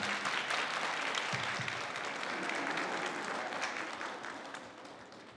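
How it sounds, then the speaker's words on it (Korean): Applause from the audience at a kindergarten graduation ceremony, steady sustained clapping from many hands in a hall, slowly fading toward the end. "박수 부탁드리겠습니다."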